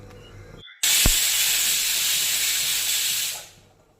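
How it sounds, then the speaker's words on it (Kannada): A pressure cooker on a gas stove, cooking khichdi, lets out one long loud whistle of venting steam, a steady hiss that holds for almost three seconds and then fades away. "ಇವಾಗ ಗ್ಯಾಸ್ ಮೇಲೆ ಇಟ್ಟು 4 ವಿಸಲ್ ತಗೋಬೇಕು"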